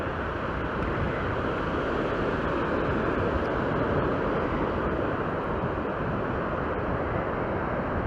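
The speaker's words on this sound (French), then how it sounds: "il y a énormément de vent" Heavy wind buffets the microphone on a beach, a steady loud roar with surf mixed in, unbroken for the whole stretch and with no voices.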